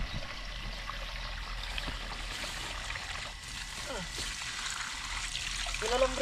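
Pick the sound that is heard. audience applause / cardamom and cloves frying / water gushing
water gushing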